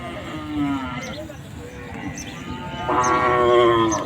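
At a busy rural bull market in Chandaikona, cattle low amid the crowd's hubbub, with a short moo early on and a louder, drawn-out one near the end.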